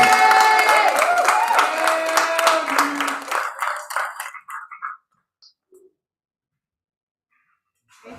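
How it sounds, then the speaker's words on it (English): A crowd applauds steadily for several seconds, then the clapping thins out and fades to near silence, with a few scattered claps trailing off. "Keep clapping as she comes."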